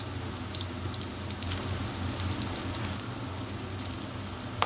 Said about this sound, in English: place our eggplant into it and carefully fry it